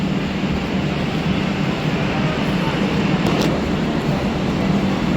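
A Tejas Express train stands at a Mumbai railway station, giving a steady, loud broadband rumble and hum of station ambience that holds without a break throughout.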